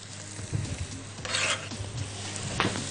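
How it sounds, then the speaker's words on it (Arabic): Chopped artichoke is stirred into a pot of onion, butter and oil, giving steady frying sizzle with scraping and rubbing stirs and a few louder clatters, with no talk. "ناخد عندي الخرشوف بعد ما قطعناه ونبدأ نحطه مع البصل"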